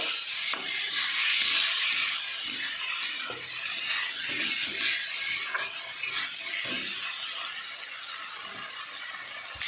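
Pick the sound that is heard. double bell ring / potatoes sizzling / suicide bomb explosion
potatoes sizzling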